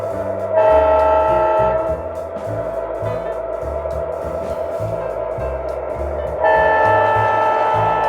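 A model MP15AC switcher locomotive hums and chugs steadily with a rhythmic clatter, while a sustained horn sounds twice, once at the start and again near the end.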